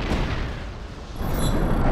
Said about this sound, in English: a little explosion